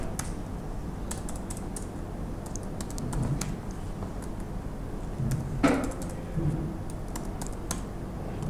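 Fingers type on a computer keyboard while Ruby code is written, with sparse light clicks spread out and a few louder key presses standing alone over a quiet room.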